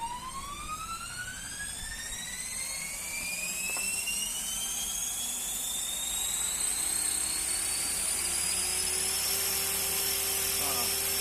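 Small electric motors of an X360 drone whine as they spin up, their pitch rising steadily into a high, continuous buzz that grows slightly louder.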